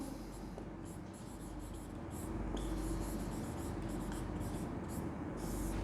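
Continuous scratchy strokes of writing on a board during a chemistry lesson on hydrogen bonding, steady and close against a dense, noisy room background.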